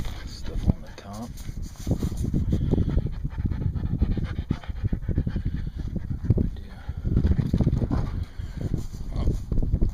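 Dogs hauled on a trailer pant heavily and rhythmically close to the microphone for the whole stretch, with someone speaking over and between the quick breaths.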